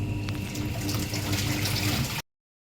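Water runs steadily from a household tap, a continuous splashing rush for about two seconds, fairly close and with no voices, then cuts off abruptly.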